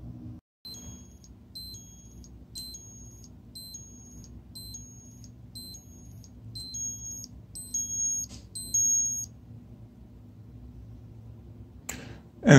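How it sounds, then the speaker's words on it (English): A Seiko Presage SAWK001 (6M13-7000) wristwatch sounds its daily alarm, a thin high electronic beeping in a steady run of short evenly spaced pulses for about nine seconds, faint against quiet room noise. "I will try to set up a small show of how the daily alarm sounds."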